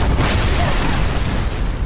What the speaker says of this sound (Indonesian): di dalam microwave miliknya itu terdapat sebuah bom yang sudah siap meledak beberapa detik lagi